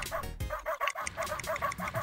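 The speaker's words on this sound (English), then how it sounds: "Oh my god, I can bark." In the ProtoCorgi video game, a corgi spaceship fires off a rapid series of short, bright, cartoonish barks in an even rhythm, close and fairly loud, with no one talking.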